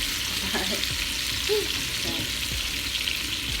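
Tilapia fillets fry in hot oil with a dense, even sizzle close by and a couple of faint scrapes or bumps, and no one speaks.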